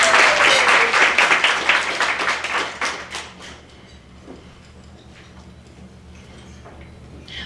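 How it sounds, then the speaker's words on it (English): Audience applause at a Black women in construction legislative launch breakfast, a loud burst of clapping that fades after about three seconds into scattered claps and room noise. "Give yourselves a round of applause."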